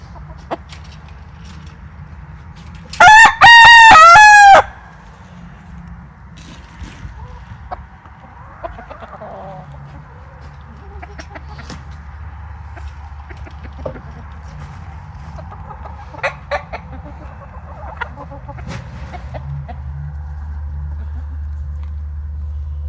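Chickens in a coop with fresh bedding, one loud burst of crowing early on, then scattered soft clucks and rustling over a low steady hum, close by and mostly quiet between calls.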